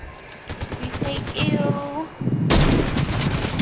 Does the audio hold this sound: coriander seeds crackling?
no